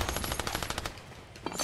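Rapid bursts of gunfire from a Fortnite match fill the opening second with evenly spaced, loud cracks that stop abruptly, followed by a short pause and one last faint shot.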